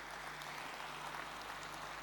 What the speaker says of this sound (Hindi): एक बार बच्चियों के लिए जोर से ताली बजाइए जरा